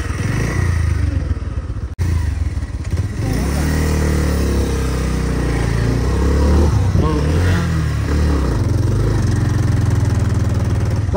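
A motorcycle engine runs loud and close while riding, with a steady rumble, rising revs and some rattle. Wind buffets the microphone and faint voices come through at times.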